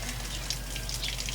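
A tap runs steadily into a sink at low level, a continuous close splashing stream of water left on while someone washes their face, with no voices.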